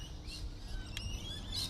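Small birds chirp faintly a few times outdoors over a soft, steady hiss of light rain during a rainy fishing session.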